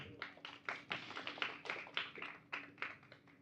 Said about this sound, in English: Please give a round of applause to our second speaker